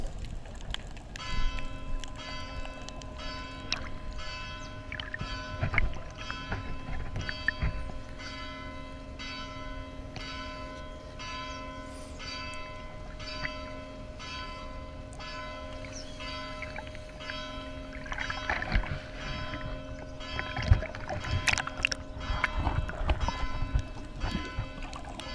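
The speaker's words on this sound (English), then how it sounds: "Let the bells ring." Church bells ring steadily with sustained overlapping tones, a continuous pealing that rises a little louder near the end.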